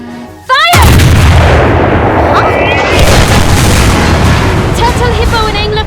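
A tank's 88 mm cannon fires in an animated Girls und Panzer tank battle: a sudden loud blast followed by a long, heavy rumbling boom that fills the remaining seconds, with faint voice-like tones near the end.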